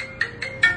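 A phone ringtone plays as three short, bright electronic bursts in quick, even succession, loud and close, with no talking over it.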